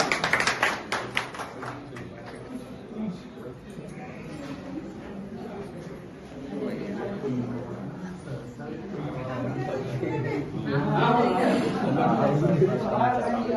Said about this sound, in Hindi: एक बार तालियों से स्वागत करिए